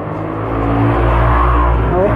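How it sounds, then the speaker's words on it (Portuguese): A motorcycle passes close by on a street, its loud engine a steady, roaring drone that fills the whole moment. "Passou a moto."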